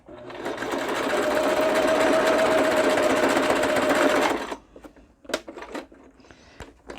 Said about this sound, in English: I'm going to actually go right around the edge now that I've sewn the middle